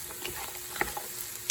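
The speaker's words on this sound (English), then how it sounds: "I want to give this a good stir" A spoon stirs carrots, fennel, garlic and thyme in a pot with soft sizzling and a few light scraping clinks, all faint and brief.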